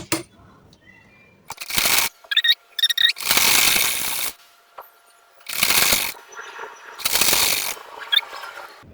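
Sewing machine stitching the sleeve of a 53-inch burqa: several loud bursts of running needle and motor, each a second or so long, separated by quiet pauses and small clicks of handling the cloth.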